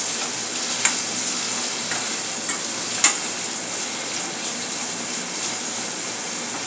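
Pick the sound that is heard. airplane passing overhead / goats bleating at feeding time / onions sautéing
onions sautéing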